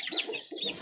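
A chicken clucks close by in a short burst of two quick throaty calls, with no talk over it.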